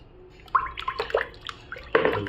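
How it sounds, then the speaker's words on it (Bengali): A hand stirs medicine into about four litres of water, giving close splashing, dripping and sloshing bursts in an irregular rhythm, with quiet gaps between strokes. "জলের মধ্যে ভালো করে এটা গুলিয়ে নেবেন চার লিটার জলের মধ্যে"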